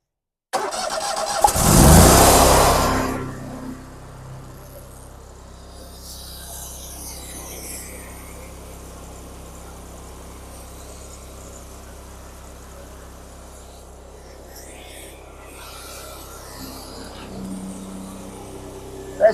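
A propane-powered 51T series trailer jetter engine cranks and catches with a loud burst, then settles into a steady, even mid-pitched idle that runs on for many seconds.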